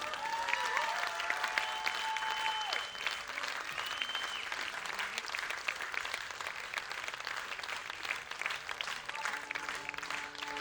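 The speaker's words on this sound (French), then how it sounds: "Je voudrais un grand tonnerre d'applaudissements pour Alexandra parce qu'elle y laisse tout." A crowd at the Salagou en Chansons 2022 volunteer presentation gives Alexandra a long, steady round of applause, dense clapping heard from a distance with a few cheers and whistles rising above it.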